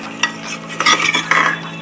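A spatula scrapes and stirs corn and mushroom biryani masala frying in a pan, producing a few short scraping strokes over a soft steady sizzle, close and without speech.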